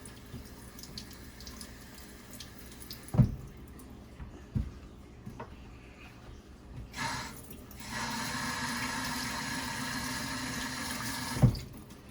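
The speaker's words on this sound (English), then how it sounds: "I'm gonna wash off my onions" Running tap water fills a kitchen sink while onions are washed, starting after some quiet handling noises and continuing as a steady close splash with a few knocks.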